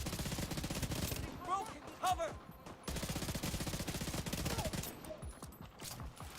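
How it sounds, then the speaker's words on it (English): Rapid video-game gunfire rattles in quick automatic bursts, steady and fairly close. A voice talks briefly over the shooting, and there is a short pause midway. "I'm just actually gonna shoot from here."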